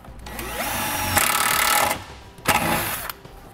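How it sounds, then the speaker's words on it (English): A power drill with a quarter-inch bit driver drives a self-tapping screw into vehicle metal while a trailer wiring harness is installed: two short, whirring bursts of motor noise with a grinding bite, separated by a brief pause, fairly close. "We use the provided self-tapping screw, and you'll need a quarter-inch bit driver. Get our hole started first there."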